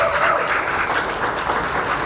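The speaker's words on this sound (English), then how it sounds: "let's give her another round of applause." Audience applause at a women in sports administration honours event in the Virgin Islands, a continuous wash of clapping holding steady throughout.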